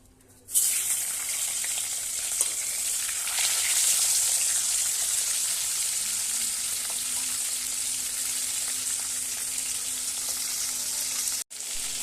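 A pomfret fish fries in oil with a loud, steady sizzle that starts suddenly and holds evenly for several seconds, then drops out briefly near the end before resuming, with no one talking.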